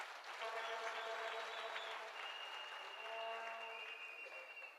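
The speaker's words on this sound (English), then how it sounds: "Can we give her another round of applause?" An outdoor crowd at a Freedom Day celebration gives another round of applause, a dense, even roar of clapping heard from a distance, with faint whistles or cheering tones drifting over it.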